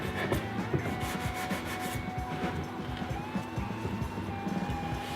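A sanding block rubbed by hand along the straight wooden edges of a simple coat rack, giving steady, close scraping strokes in a continuous rhythm with no speech.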